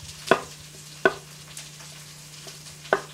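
A knife slices mushrooms on a cutting board, making three or four separate, crisp taps spaced about a second apart against a faint steady hum, with no voices.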